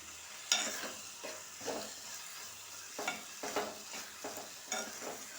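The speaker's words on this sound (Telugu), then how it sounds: "ఇది క్యాబేజీ అండి మొత్తం ఆయిల్లోనే ఫ్రై చేశానండి" Shredded cabbage frying in oil, a soft continuous sizzle broken by regular scraping strokes of a spatula stirring the pan, fairly quiet and close, with no talking.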